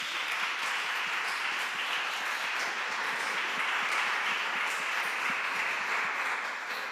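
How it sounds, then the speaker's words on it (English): A conference audience at a museum heritage event gives Sofia sustained applause, a dense, even patter of many hands clapping at a steady level for about seven seconds before trailing off slightly. "applause for Sofia"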